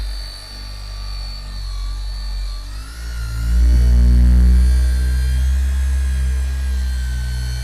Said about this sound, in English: I have the Flex here with the 3-inch backing plate and the 12mm orbit